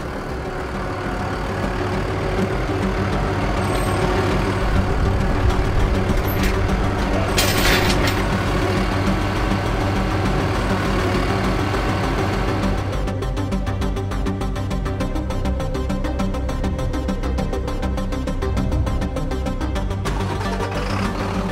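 A truck hauling a flatbed trailer loaded with Triceratops fossils through the Badlands rumbles with a steady, heavy engine drone and road noise throughout, close and continuous, with a brief clatter midway and no talking.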